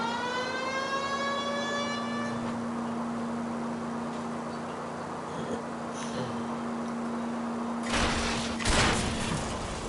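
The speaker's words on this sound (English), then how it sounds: "You got sirens going, they all pull over out the way." A police car siren in the video game L.A. Noire wails with rising and falling harmonics over a steady hum, fading out after a few seconds, followed by a couple of sharp bursts.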